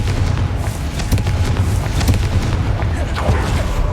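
A Confringo blasting curse from the Hogwarts Legacy game erupts as a loud, rumbling explosion with a deep boom that lingers, debris crackling and rolling throughout.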